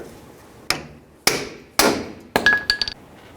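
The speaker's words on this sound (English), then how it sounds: "we're going to continue on with a pickle fork and our hammer" Four sharp metallic hammer blows ring out, spaced about half a second apart, as a pickle fork is driven against a tie rod end on a 1992-2000 Chevy Tahoe; the last strike rings and rattles briefly.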